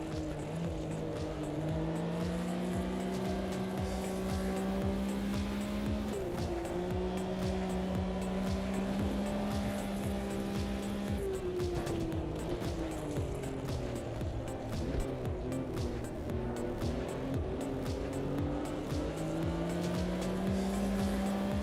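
A race car engine in a racing video game holds a steady droning note, the throttle feathered so the pitch dips and rises in waves, with the motor running continuously and loud throughout.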